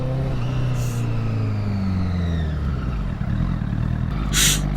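A Mercedes C63 AMG pulling away, its engine note rising and then fading into the distance, heard close at first and drifting off, with a brief whoosh of passing traffic near the end.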